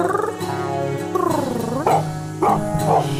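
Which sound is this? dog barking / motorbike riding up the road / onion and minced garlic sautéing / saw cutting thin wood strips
dog barking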